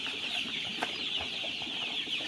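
Sonali chickens on a farm gather for morning feed and cluck softly, close by, over a steady bright hiss of background noise.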